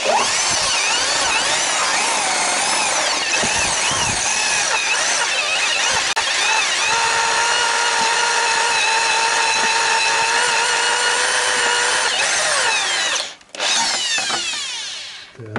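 A power drill with a 7 mm bit bores out a stubborn pin on a VAZ crankshaft gear, a loud, steady grinding whine with shifting pitch that cuts off near the end.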